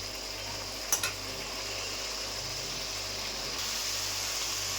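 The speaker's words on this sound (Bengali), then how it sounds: "লবণ, ভালো করে কষে নেব।" Fish curry masala with salt sizzles and fries in a pan while being stirred, a steady close hiss with a brief utensil knock near the start.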